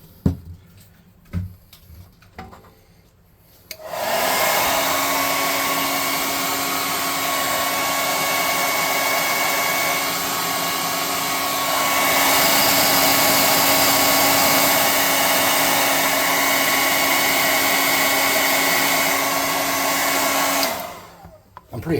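A hair dryer blows steadily on fresh paint on a tabletop-game airship model, a loud continuous whirring hum with a stable whine that rises slightly midway, framed by brief handling clicks before and after.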